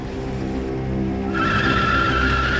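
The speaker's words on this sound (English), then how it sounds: "Wheel spin, a lot." A Rover car with a V12 launches hard, its tyres spinning and screeching in a loud, sustained squeal over the deep roar of the engine, growing harsher halfway through; close and with no talking.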